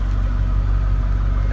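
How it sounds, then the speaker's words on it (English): Ford Focus ST running, heard from inside: a steady low engine drone with a muted exhaust rumble, continuous and even over a short stretch, no talk. "It's a fairly quiet exhaust but loud engine."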